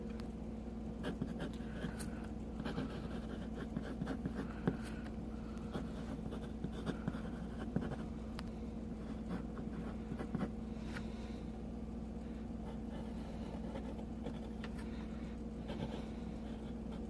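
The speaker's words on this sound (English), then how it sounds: "Now I'm going to do a final writing sample" A Sheaffer Viewpoint calligraphy fountain pen writes steadily across paper, giving a close, continuous soft scratching with small nib strokes and taps, alone without talk.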